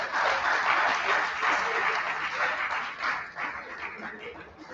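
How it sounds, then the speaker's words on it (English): Audience applause after a speech at a voter awareness event, loud dense clapping with scattered shouts that swells early and gradually thins out. "A resounding applause for Dr. Adebayo."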